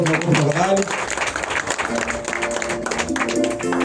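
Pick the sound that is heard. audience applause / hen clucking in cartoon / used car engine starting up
audience applause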